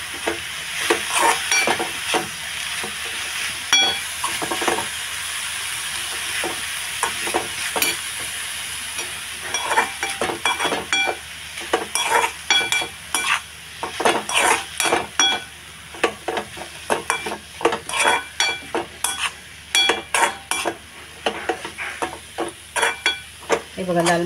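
Red amaranth greens with grated fresh coconut stirred in a pan, a continuous frying hiss broken by repeated scraping strokes of a spoon that get quicker and more frequent toward the end.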